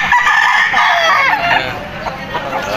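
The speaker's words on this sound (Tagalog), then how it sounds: "Ganda ng mga manok dito sa Padre Garcia mga tol" Roosters crow and chickens cluck loudly and close by at the Padre Garcia livestock market in Batangas, a dense, continuous chorus of fowl calls with market voices mixed in.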